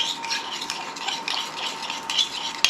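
Halloumi sizzling and crackling in a hot pan, with scraping and stirring sounds and a sharp utensil clink near the end.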